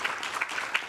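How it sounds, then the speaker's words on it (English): A brief burst of audience applause at a conference on climate-resilient development, dense clapping at moderate level with no voices over it. "Can we give Ms. Suada Ibrahim a round of applause?"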